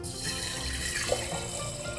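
Filtered water poured onto sprouting seeds, a steady close splashing trickle with no break, fairly loud and alone.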